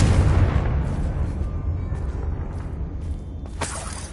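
A Confringo explosive spell goes off in Hogwarts Legacy, a loud blast at the start that decays into a rumbling tail, followed by a short sharp crack near the end.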